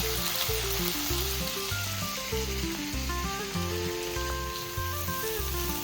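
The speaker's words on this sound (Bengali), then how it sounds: "মাছগুলো সব ভাজা হয়ে গিয়েছে তারপর আলুটা দিয়ে দিল ভাজার জন্য" Potatoes fry in oil, producing a continuous crackling sizzle like patter on a surface, fairly loud and steady, over background music and with no one speaking.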